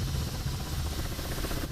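A Huey helicopter in the DCS flight simulator game drones steadily with a loud, continuous engine and rotor rumble, heavy in the low end with a constant whine above and no talk.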